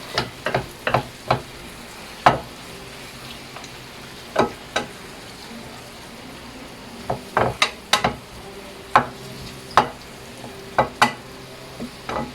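Small menudo-cut pork pieces sizzle steadily in a pan while a utensil stirs them, giving a dozen or so sharp, irregular scraping knocks against the metal over the constant frying hiss, close and clear with no talk.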